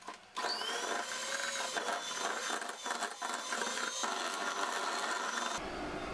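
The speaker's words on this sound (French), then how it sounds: "Je vais fouetter un petit peu le fromage avec le sucre" An electric mixer whisks cream cheese with sugar for a cake, giving a steady, close whirring hum that runs almost without a break, with small shifts in pitch as the beaters move through the mixture.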